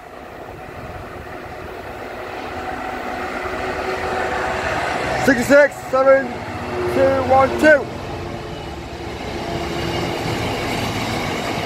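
Freight train passing Dore and Totley station, a steady rumbling roll that builds, with rhythmic clickety-clack wheel beats and brief squeals through the middle, while someone speaks nearby.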